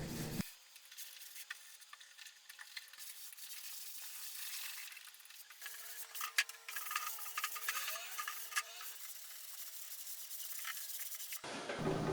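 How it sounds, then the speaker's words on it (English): Soft, steady scratchy rubbing of a 220 grit sanding sponge against laminate furniture, close by, with faint hum in the background and no talking. "I grabbed the 220 grit sanding sponge and just touched up everywhere that wasn't smooth."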